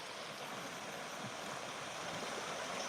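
Rapids on a storm-swollen creek running high and fast around a bend, a steady close roar of broadband rushing water that holds constant with no voices.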